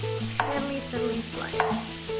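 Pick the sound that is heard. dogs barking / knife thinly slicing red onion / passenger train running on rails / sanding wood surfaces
knife thinly slicing red onion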